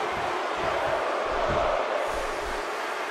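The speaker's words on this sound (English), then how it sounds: "You can bet this crowd is fired up for this match." Arena crowd noise from a WWE 2K16 wrestling match held in Steel City: a steady, loud roar of cheering spectators with low rumbling pulses throughout, no talking.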